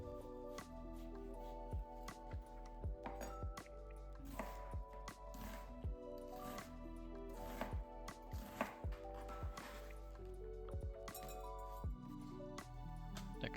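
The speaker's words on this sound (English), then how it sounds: "dicing half an onion as well" Half an onion diced with a knife gives a series of quiet, crisp taps on a board in uneven bursts, set against steady low background music.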